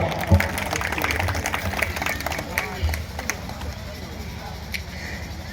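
Applause from an audience at a Bhojpuri Birha music performance, dense clapping that is loudest at first and then thins and fades over several seconds.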